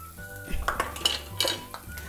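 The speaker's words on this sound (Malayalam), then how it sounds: "ഇപ്പം എണ്ണ നല്ല സൂടായിരിച്ച് കറിവേപ്പില പൊട്ടിക്കലാം" Curry leaves spluttering in hot oil in a pan while preparing a Malabar chicken snack, heard as close clinks and scrapes of a metal spoon over a soft background sizzle.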